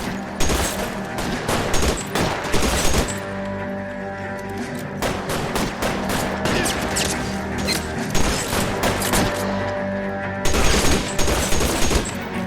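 Sustained gunfire from an L.A. Noire shootout at Nicholson Electroplating, with dense volleys of shots and rapid bursts running nearly continuously, loud and close, with a short lull near the middle before another heavy burst.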